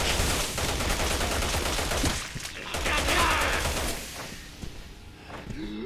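Gunfire in the video game Resident Evil 6 crackles in dense, continuous bursts over busy game sound, with no voice in the clip.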